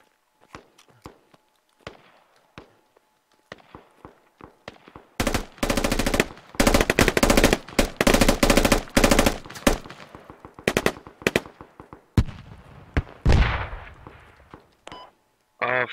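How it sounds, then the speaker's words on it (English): A SAW light machine gun fires long sustained bursts in the video game Squad, loud and close amid scattered single shots and footsteps, with quieter gaps before and after the main stretch of automatic fire. "I hear that saw."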